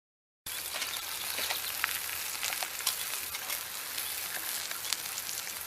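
A rib eye steak sizzles on an outdoor charcoal grill, a steady close crackling hiss with scattered pops, starting abruptly and continuing alone without talk.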